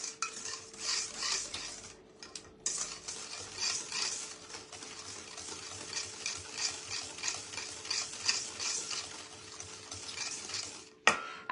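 A utensil stirs sugar into another ingredient for a cheesecake, scraping and clinking against the bowl in quick repeated strokes, close and fairly quiet, with brief pauses and a sharp knock near the end.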